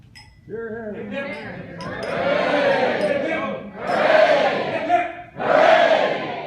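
Guests at a wedding dinner cheer and whoop after a toast to the bride and groom, rising in several loud bursts of crowd noise, with a faint clink of glassware and some talking mixed in.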